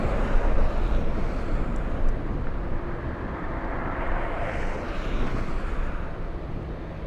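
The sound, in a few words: Korean Air 747 and A380 aircraft at LAX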